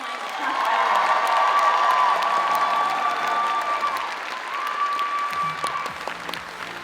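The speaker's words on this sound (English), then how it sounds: "Everyone give a massive cheer for Kawani Cosplay." A crowd at a PAX Aus cosplay championship claps loudly and steadily, with scattered cheers and whoops rising above the applause before it gradually thins out.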